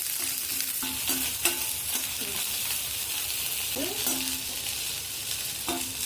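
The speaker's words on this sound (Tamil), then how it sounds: "காஞ்சி மிளகாய் வறுப்பட்ட பிறகு பச்சை மிளகாய் சேர்த்து கொஞ்சம் வதக்கிக்கலாம்" Green chillies and dried red chillies are sautéed in a pan for moringa chutney, a soft continuous sizzle with light scraping stirs and occasional clinks of a spoon against the pan.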